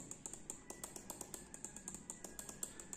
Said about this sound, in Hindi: और क्लिक साउंड अगर मैं आपको सुनाने की कोशिश करूँ